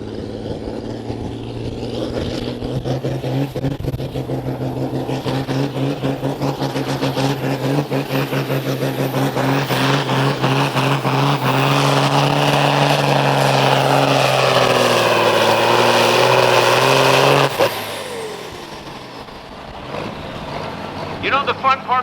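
A John Deere–sponsored pulling tractor at a truck and tractor pull in Platteville roars at high revs, loud and sustained for about seventeen seconds with a climbing engine note, then cuts off abruptly under an announcer's voice.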